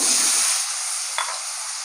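Potatoes sizzle in hot oil for a Bengali curry in a home kitchen, a steady bright frying hiss that fades slightly, with one brief spatter near the middle.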